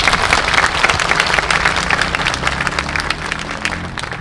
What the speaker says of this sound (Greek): Ένα χειροκρότημα για όλους εσάς.